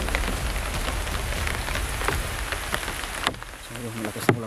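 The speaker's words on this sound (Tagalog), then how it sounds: "So yung malakas na ulan mga idol. Malakas na ulan." Heavy rain pours onto surfaces close by, a dense, constant patter with sharper individual drops, briefly joined by a faint voice.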